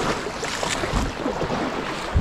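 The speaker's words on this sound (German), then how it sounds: "Und das schwappt offen das Wasser richtig rein ins Kajak" River waves on the Sieg slosh and splash water into a Gumotex Thaya 2 inflatable kayak, a continuous rushing wash of churning water and wind with bumps of spray, loud and close throughout.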